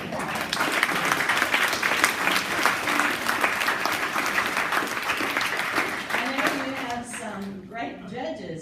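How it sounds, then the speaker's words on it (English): Sustained audience applause at an award ceremony, dense steady clapping filling the room for several seconds before tapering off, with voices rising near the end. "Let's give them a round of applause."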